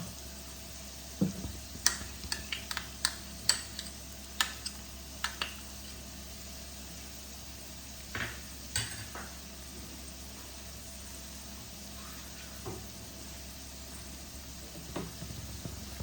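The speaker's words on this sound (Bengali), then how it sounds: "অল্প জল দিয়ে কষিয়ে নেব" Ground cumin, coriander and Kashmiri red chilli powder stir-frying in a pan, a quiet sizzle under scattered sharp spatula taps and scrapes that bunch up early and then thin out.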